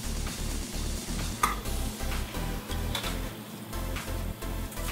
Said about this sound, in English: And give it a good old stir